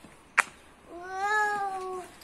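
A cat gives a single clear, drawn-out meow nearby, preceded by a short sharp click. It is heard in a quiet setting with no talking over it.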